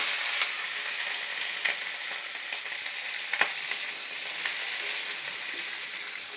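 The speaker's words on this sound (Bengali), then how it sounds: "আলু জিরা ফোড়ন দিয়ে কষলাম, কষে নেবো।" Potatoes frying in oil with a cumin tempering: a continuous sizzle with a few sharp stirring clicks scattered through, close and steady, with no talking.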